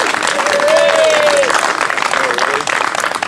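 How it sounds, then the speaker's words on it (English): An audience at a Labor Day gathering claps and cheers in sustained applause, with a raised whoop over it and a voice briefly heard. "clap really loud and cheer really loud for her"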